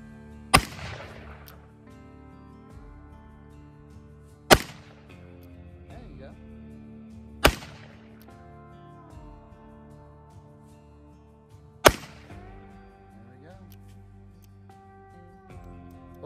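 Four black powder rifle shots ring out several seconds apart, each a sharp loud crack with a lingering rumbling tail, while outdoor background noise continues between them.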